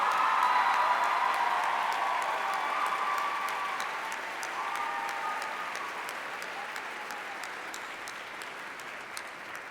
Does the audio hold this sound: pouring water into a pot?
no